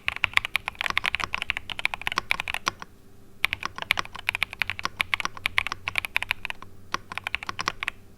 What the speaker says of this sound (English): you can get the sound of those keys.